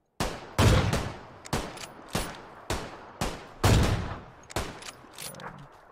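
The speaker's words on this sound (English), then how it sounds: "that gun sounds so sick" PUBG video game gunfire: about nine sharp, loud shots ring out one by one at an irregular pace, each with a short echoing tail, with no voices over them.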